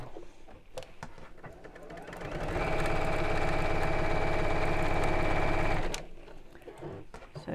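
A sewing machine stitches a quilted drawstring bag, running in one loud, steady mechanical burst for about three seconds, with quieter handling clicks before and after.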